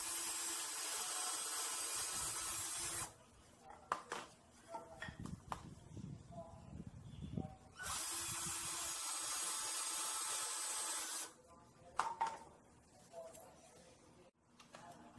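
Two long bursts of a power drill whirring steadily as it drills into wood, each lasting a few seconds, separated by quieter shuffling and handling noises.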